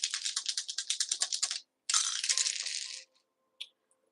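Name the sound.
astro dice being rolled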